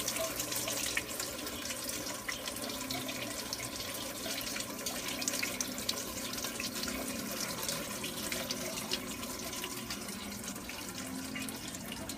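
Water trickles steadily over plant roots in a hydroponic growing setup, a constant splashing flow like a running faucet that stays even and fairly quiet throughout, with no voices.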